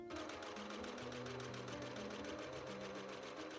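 A sewing machine top stitches a folded shirt button placket, running steadily and close with a fast, even needle rhythm from start to finish.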